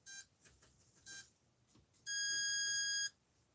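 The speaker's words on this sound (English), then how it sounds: "but there's my alarm clock" Electronic alarm clock beeping on a soldering workbench: two short beeps, then a sustained steady electronic tone lasting about a second, fairly clear against a quiet room.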